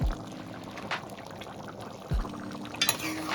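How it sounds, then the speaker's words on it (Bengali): Mutton keema ghugni being stirred in a pot, heard as a few soft scrapes and a low clatter of a spoon against the pot over a quiet background. "নাড়াচাড়া করে নেব"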